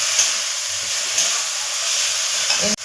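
Ginger and pea paste hitting hot mustard oil in a wok, a loud broad hiss of frying that holds steady, then a sharp clatter at the end.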